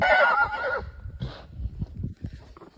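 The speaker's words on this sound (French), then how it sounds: "Alors ça ronfle, ça hennit." A horse gives a loud, close whinny, then snorts and shuffles, with hooves clopping softly on the ground.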